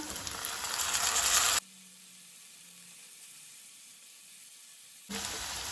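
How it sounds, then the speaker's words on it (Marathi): Onion and chopped tomato fry in a pan for Goan prawns chilli, a loud dense sizzle that drops to near silence for several seconds, then returns just as strongly. "कांदो तळसून जालो। आता हांव तातूंत टोमॅटो घालता।"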